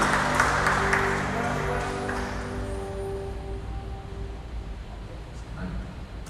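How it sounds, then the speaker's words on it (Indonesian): Applause at a Catholic wedding ceremony in a church, a crowd clapping steadily that fades gradually into a quieter room tone, with speech over it. "Mari kita berikan tepuk tangan yang setia."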